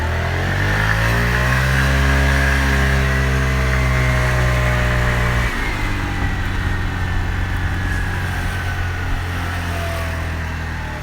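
A Chinese scooter's small engine, its carburetor just cleaned, idles steadily with a continuous buzzing hum whose pitch drops and settles partway through.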